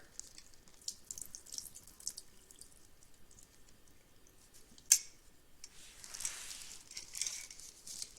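Water splashes and trickles as it is poured out of a lab graduated cylinder, a brief clink, then a short gush draining into a sink, with no talking.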